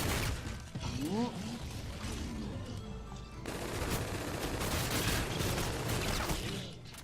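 Rapid gunfire from a first-person shooter, Infinite Warfare's zombies mode, crackles steadily throughout with dense bursts over game music and effects, while someone talks briefly near the start.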